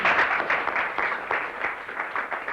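Audience applause fills a room with dense, steady clapping at moderate loudness, a sustained wash of many hands that eases slightly toward the end.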